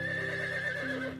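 A cartoon horse whinnies in a steady, harmonic neigh with a dip in pitch near the end, heard alone at moderate loudness.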